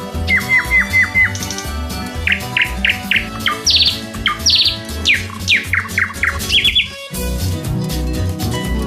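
Busy chirps and whistled bird calls ring out in quick bursts over a dense, steady musical backing, with a short pause near the end before the backing resumes.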